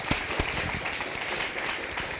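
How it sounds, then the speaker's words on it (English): Applause from a live podcast audience, moderately loud, steady clapping from many hands with a few sharper claps standing out, no talking over it. "Round of applause."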